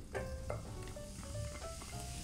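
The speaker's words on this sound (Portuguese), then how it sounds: "Também vou colocar 3 dentes de alho amassados." Crushed garlic cloves fry in a small amount of oil in a pan, giving a steady close-up sizzle with a few faint stirring clinks throughout.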